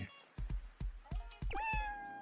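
Cartoonish cat meows from the video game Dave the Diver, several short meows in a row, clear and close, over soft game music with rhythmic thumps.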